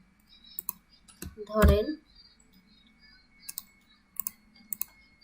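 Scattered keystrokes on a computer keyboard as text is entered with a type tool in Adobe Illustrator CC 2021, sparse close taps and a few clicks spread around a short spoken word.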